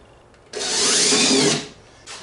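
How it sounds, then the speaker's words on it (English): A power drill whines up and bores through wood for about a second, a loud rising buzz that tapers off, followed by a brief restart. "I'm drilling through."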